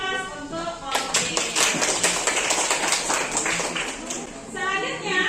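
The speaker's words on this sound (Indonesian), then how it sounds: "beri aplaus untuk kelompok B" A classroom gives a group of students a burst of rapid, scattered hand claps that builds and then fades, with voices chattering underneath and talking again at the end.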